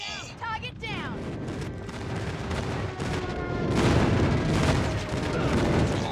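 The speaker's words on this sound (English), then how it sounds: "Friendly airstrike incoming" Airstrike explosions in the mobile shooter Call of Duty Mobile, with heavy booming blasts and rumbling detonations building into a loud, sustained roar after a short chirping game sound.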